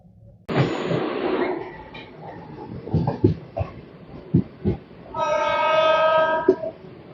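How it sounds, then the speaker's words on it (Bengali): A train rumbles and clatters nearby with rhythmic wheel thumps as it pulls into Bandel Junction, then a long horn blares loudly near the end. "আমাদের ট্রেন ঢুকছে এখন ব্যান্ডেল জংশনে"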